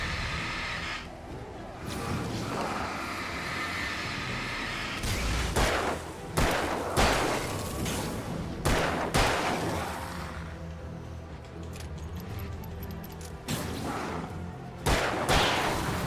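Gunfire in the video game Alan Wake, a series of loud sharp shots scattered irregularly, some single and some in quick clusters, over a rumbling game background.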